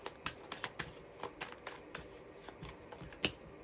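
Tarot cards are shuffled by hand in quick, soft riffling bursts with light snapping flicks as cards are drawn, close and quiet with no talking.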